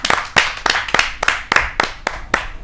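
Audience at a Hindi kavi sammelan poetry gathering claps for a poet being welcomed to the stage, a burst of sharp, uneven handclaps from a modest crowd, close and lively, with no talk over it.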